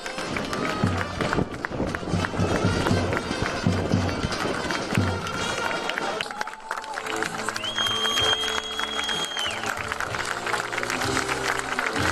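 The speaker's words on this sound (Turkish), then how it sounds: "Alkışlarınızı kesmiyoruz" A crowd applauds at a celebration for the Nilüfer Belediyespor handball team after their Super Cup win. Dense, continuous clapping fills the room, and loud music takes over partway through.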